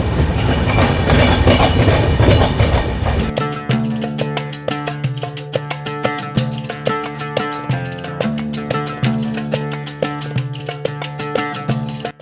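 A train runs on rails with a loud rumbling roar at first, then a steady rhythmic clickety-clack of wheels over rail joints that repeats evenly and close by. No one speaks.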